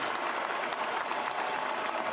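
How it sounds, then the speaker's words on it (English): Steady, dense applause from a large basketball arena crowd at an NBA Western Conference Finals game, continuous and full throughout with no talking on top. "we first have to give a round of applause to the Denver Nuggets"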